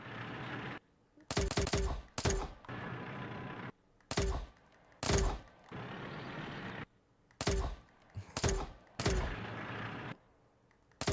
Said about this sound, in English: That tank is shooting through a wall.